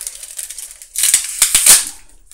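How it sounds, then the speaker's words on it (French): A foil Pokémon Plasma Storm trading card booster pack, taped shut, being torn open at close range: a soft crinkle followed by several sharp ripping and crackling bursts in the second half. "Oups, désolé, j'ai craqué un booster."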